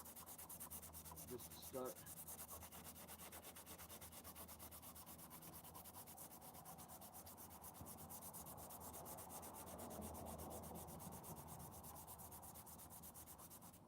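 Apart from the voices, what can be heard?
hand sanding with heavy grit P60 sandpaper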